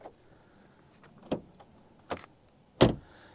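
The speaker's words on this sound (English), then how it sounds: "Now let's do a quick door sound check." Several sharp mechanical thumps and clicks sound at intervals near a 2025 BMW i5 eDrive40, ending in one heavy, solid door shutting close by.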